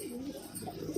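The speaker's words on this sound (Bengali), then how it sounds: "ওই দেখো ডাক দেখো আমাদের গিরিবাজের ডাক দেখো" A Giribaz pigeon gives a short, soft coo close by, a low warbling call that lasts about a second, with no voices.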